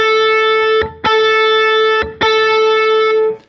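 Guitar through a Line 6 Helix amp model with the ripple parameter raised, three sustained distorted chords separated by short gaps, each ringing with a steady layered tone and a faint extra note beneath.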